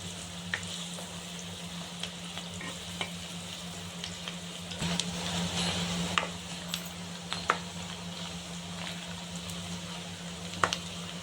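Pieces of bitter gourd and onion fry steadily in hot oil, a continuous close sizzle with a few sharp ticks and pops and a faint stirring scrape, no voices.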